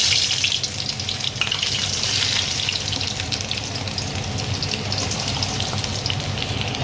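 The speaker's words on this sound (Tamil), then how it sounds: "வெங்காயம் நல்லா வதக்கட்டும்" Onions sizzling steadily in hot oil in a pan for vegetable fried rice, a continuous close, loud crackling hiss with no talking.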